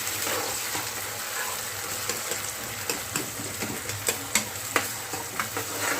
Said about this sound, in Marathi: त्यानंतर आपल्याला यात टॅमॅटो घालायचा आहे आणि यालाही आपण चांगलं फ्राय करून घेऊया